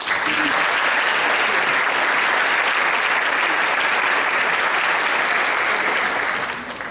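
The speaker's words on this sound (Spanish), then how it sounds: "Un aplauso." Audience applause at a 60th-anniversary ceremony of a hospital nutrition department, a dense steady roar of many hands clapping that runs continuously for about seven seconds before easing slightly at the end.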